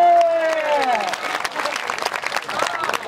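Audience applause at a live Hindi comedy poetry performance: a held vocal note fades out at the start, then dense, steady clapping fills the rest of the hall.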